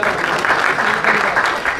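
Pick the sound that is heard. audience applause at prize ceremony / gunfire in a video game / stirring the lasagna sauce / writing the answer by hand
audience applause at prize ceremony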